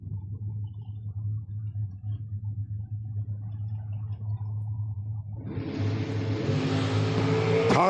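A short dragster at the Hillbilly Bracket Bash drag strip idles with a low, steady rumble, then about halfway through breaks into a loud, building engine roar as it accelerates, rising in pitch and growing closer. No voices.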